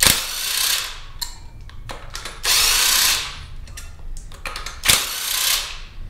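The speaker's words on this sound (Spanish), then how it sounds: "ya deberíamos de poder quitarlos con la de impacto" Impact wrench loosening engine bolts on a disassembled Volkswagen 1.8L engine, firing in three loud, harsh hammering bursts of under a second each, with quieter clanks and shop noise between them and no talk.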